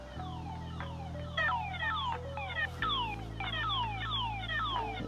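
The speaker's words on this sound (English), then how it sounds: "There's also an alarm you can trigger." A loud electronic alarm from a solar-powered security camera, repeating rapid falling sweeps over a steady droning tone that shifts pitch partway through, sounding continuously and close by with no voices.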